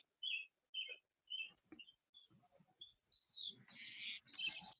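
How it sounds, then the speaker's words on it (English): Spotted towhee giving short, high chirping calls outdoors, repeated at roughly half-second intervals, faint and distant, growing into a denser burst of calls near the end. "there's a spotted towhee that's giving kind of a call periodically"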